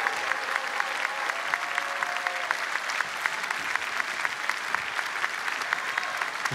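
An audience at the closing song of the 7th Jeux de la Francophonie breaks into steady, dense applause that holds at an even level throughout, with many hands clapping and no voices standing out.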